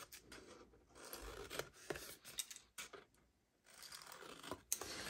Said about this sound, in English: take your scissors and you're gonna go cut off the corners from score line